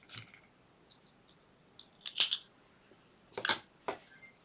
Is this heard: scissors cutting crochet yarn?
yes